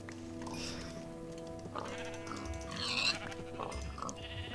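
Sheep bleating in the Minecraft video game, several wavering bleats over a steady game background with other ambient farm-animal sounds, moderately loud and close.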